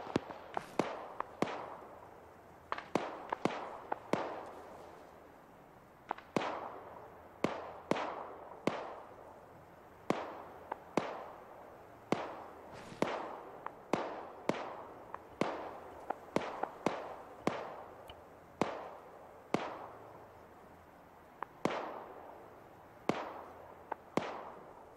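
An ammo cache cooks off in the video game ArmA 3, throwing out a long string of sharp, irregular explosive cracks and pops that come in quick bursts and scattered single bangs, each with a short decaying tail.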